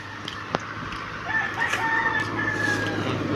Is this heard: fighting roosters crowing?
yes